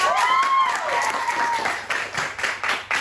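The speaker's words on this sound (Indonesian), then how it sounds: "Tepuk tangan dong buat panitia kita." An audience claps for the event committee, a busy burst of applause with overlapping talk and a whistling tone early on, the claps thinning into scattered louder bursts toward the end.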